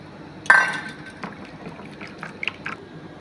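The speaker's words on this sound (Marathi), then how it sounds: "पाणी टाकायचं याच्यात" A sharp clink opens, then water trickles and splashes softly into a bowl of gram flour, with a few light taps after it.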